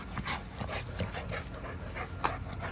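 Energized Cane Corso dogs pant rapidly and unevenly close by, with quick breathy huffs and a faint whimper mixed in.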